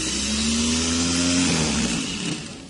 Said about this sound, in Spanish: va a girar el motor en este momento